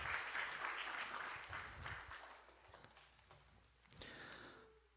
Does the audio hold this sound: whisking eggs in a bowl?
no